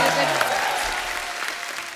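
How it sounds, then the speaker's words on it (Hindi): Studio audience of The Kapil Sharma Show bursts into sustained, loud applause welcoming a guest, a dense even roar of clapping with a voice faintly underneath. "तालियां जोरदार होनी चाहिए।"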